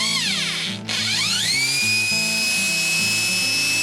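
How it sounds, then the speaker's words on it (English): A corded electric drill runs off leisure batteries through a 2000 watt inverter. It spins up with a rising whine, dips briefly, then holds a steady high-pitched hum, loud and close with no talking. "That is a drill working off the leisure batteries through the inverter."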